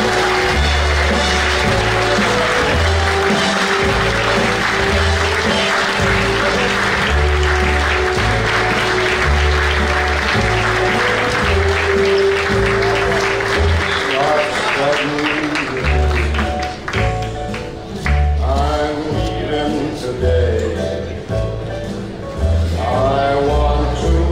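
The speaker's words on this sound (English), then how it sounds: "Let's have a big round of applause" Sustained audience applause at the NYPD scholarship dinner, a dense, steady wash of clapping from a large crowd over a loud backing track with a pounding beat, fading near the end.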